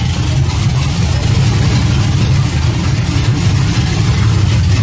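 A race car engine idles rich, a steady, loud low rumble that holds throughout without revving.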